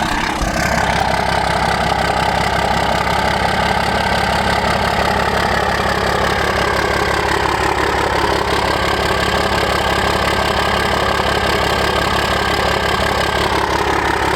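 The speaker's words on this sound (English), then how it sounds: "That exhaust tip definitely enhances the tone of the exhaust coming out." A Cummins 12V diesel engine in a dually truck idles continuously close by, a deep steady rumble with a throaty exhaust tone through the exhaust tip and no pauses.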